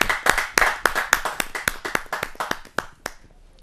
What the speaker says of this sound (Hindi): जरा जोरदार तालियों के साथ हम उनका स्वागत करते